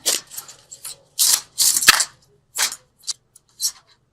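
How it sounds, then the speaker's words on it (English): Angel oracle cards are shuffled in several quick riffling bursts, crisp papery flutters separated by short pauses. "keep shuffling"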